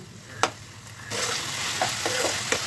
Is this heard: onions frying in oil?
yes